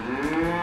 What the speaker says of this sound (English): Fields of green populated with colorful cattle.